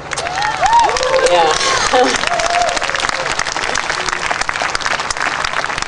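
Festival audience at the OM Festival talk with a guest speaker breaks into dense, sustained applause and cheering that fills the whole stretch, with a speaker's voice carrying over the crowd noise.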